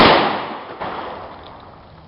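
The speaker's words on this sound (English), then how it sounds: "The Hornady Critical Defense 45 ACP, fired from a 3 inch Taurus Millennium at a distance of 15 feet" A Hornady Critical Defense .45 ACP round goes off from a 3-inch Taurus Millennium pistol, fired at a target 15 feet away: one loud, close crack at the start that decays slowly. A smaller secondary thump follows partway through.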